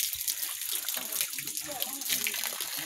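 A water faucet at a rural farm spot runs in a steady splashing stream, near and continuous, with faint voices in the background.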